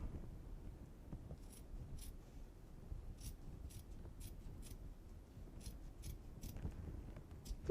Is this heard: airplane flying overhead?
no